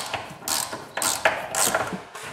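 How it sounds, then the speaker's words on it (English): A screwdriver turns pivot screws into a CNC-carved wooden shelf, producing a series of quick ratcheting clicks and creaks in short bursts. "Then I can screw the pivot screws."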